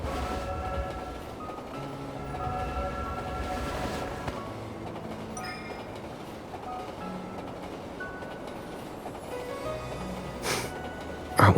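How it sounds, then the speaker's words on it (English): A train in the video game Love and Deepspace rumbling steadily with tonal hums and a brief horn-like blast, building slightly as it pulls away, ending with a short burst of noise. "The train is about to leave."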